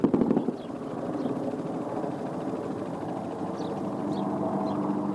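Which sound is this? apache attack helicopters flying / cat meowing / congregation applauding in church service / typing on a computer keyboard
apache attack helicopters flying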